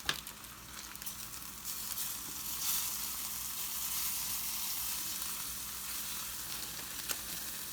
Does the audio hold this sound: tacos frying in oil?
yes